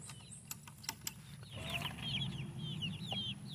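Adult chickens and baby chicks cluck and peep close by, with small chirps rising over a low background and a few faint knocks early on.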